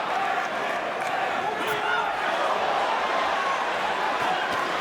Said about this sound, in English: This crowd is loving this title fight already.